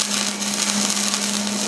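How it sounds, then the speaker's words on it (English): A welding bead is run on a metal handle, giving a steady, close, continuous buzzing hiss with a constant low hum that carries unbroken to the end. "So we'll go ahead and run a bead here and here."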